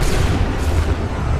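Cannon fire in Assassin's Creed III, a loud, deep, rolling boom that fills the moment with sustained low rumble and no speech over it.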